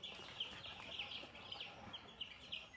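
Day-old broiler chicks packed together on a poultry farm keep up a steady, shrill chorus of overlapping peeps, with brighter chirps rising every so often above a soft, continuous background hiss.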